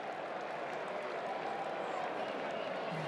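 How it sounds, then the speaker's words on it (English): Dense, steady crowd roar at a cricket stadium during a New Zealand versus Australia T20 match, swelling as cheering follows a big six into a noisy section of the stands, with broad sustained noise throughout. "Into the noisy part of the crowd."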